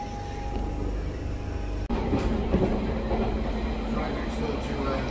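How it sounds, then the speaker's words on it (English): London Underground Central line train from Woodford toward Stratford rumbling along the track with a steady low roar and faint clattering, heard from nearby with a brief jolt partway through. "So here comes the train."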